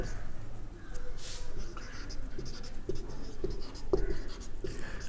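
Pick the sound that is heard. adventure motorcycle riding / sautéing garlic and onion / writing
writing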